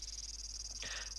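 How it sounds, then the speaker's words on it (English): A cricket chirping sound effect from a visual novel video game, a steady high-pitched trill running faintly through the whole moment with a brief brighter burst near the end. "dieser Grillenzirp-Sound"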